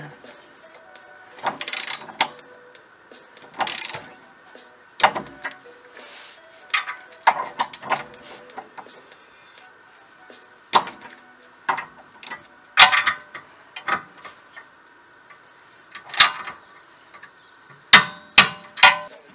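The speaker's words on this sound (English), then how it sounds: "you torque them down to 40 foot-pounds." A torque wrench tightens three bolts to 40 foot-pounds, with repeated sharp clicks, ratcheting and metallic knocks in irregular bursts, close and fairly loud, and some talk between them.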